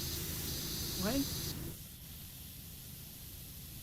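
Pressure washer spraying in the PowerWash Simulator video game, a steady loud hiss for about a second and a half that cuts off abruptly, leaving quieter game ambience, with a voice speaking briefly over the spray.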